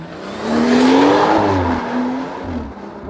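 A BMW M140i Performance with its 360 hp six-cylinder engine, driven in Monaco, revs up loud and close, its rising engine note swelling, dipping and climbing again.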